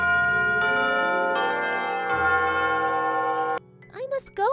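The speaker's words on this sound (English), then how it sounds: "the clock began to chime." Deep, sustained clock chimes ring out in a cartoon Cinderella story, several overlapping bell strokes in succession, followed by a brief spoken line.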